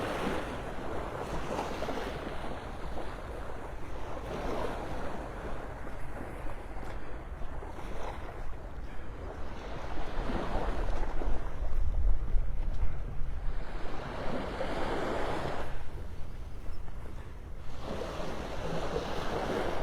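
Ocean waves break and wash ashore at Delnor-Wiggins beach in North Naples, Florida, a steady, loud roar of surf swelling in repeated surges, with wind buffeting the microphone and no voices.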